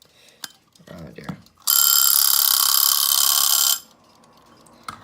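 An antique Westclox alarm clock bursts into a loud, continuous metallic bell ring lasting about two seconds, preceded by faint clicks and a short murmur of speech.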